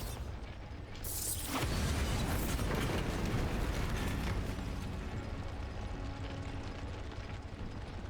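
A Bombarda blasting spell goes off in Hogwarts Legacy: a sharp, loud burst about a second in, followed by a heavy, sustained rumbling roar that continues steadily to the end.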